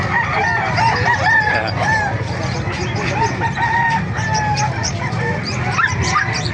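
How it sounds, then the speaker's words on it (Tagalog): Many chickens clucking close by at a chicken market in Calumpit, Bulacan, with several roosters crowing repeatedly over a busy, continuous flock clamor. "Dahil mga manok na dito sa loob"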